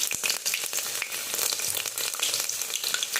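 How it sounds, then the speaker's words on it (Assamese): Onions sizzle loudly in hot oil in a pressure cooker, a close, dense crackle broken by a few stirring scrapes. "আৰু পিঁয়াজখিনি আমি ভাজি ল'ম ভালকৈ।"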